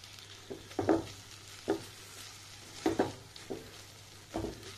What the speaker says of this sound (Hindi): देखिए ये मावा अच्छी तरह से गर्म हो गया है